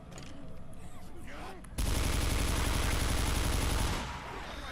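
Gunfire from the video game Left 4 Dead 2 erupts as a loud, sustained burst of rapid shots lasting about two seconds, following quieter game ambience, with a person speaking nearby.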